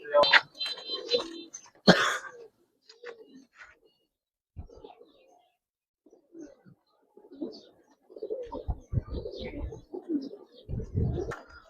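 Giribaz and coloured pigeons coo softly in scattered bursts, with wing flutters and rustling near the start, nearby and fairly quiet, broken by pauses.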